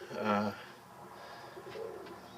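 An Arabian trumpeter pigeon gives a single short, close coo at the start, followed by near silence with faint background sounds.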